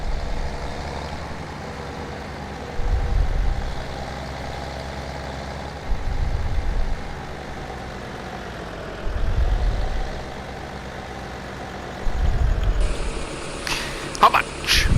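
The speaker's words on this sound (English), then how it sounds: "Come on, tractor." A tractor engine drones steadily in Farming Simulator 17, rising in four evenly spaced low throbbing surges over a constant hum, with a voice talking over it.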